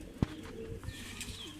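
A white, long-bred Italian-line fancy pigeon gives soft, faint coos against a quiet background, with one brief sharper knock early on.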